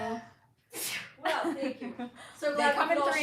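A single sharp sneeze bursts out near the mic, followed by people speaking.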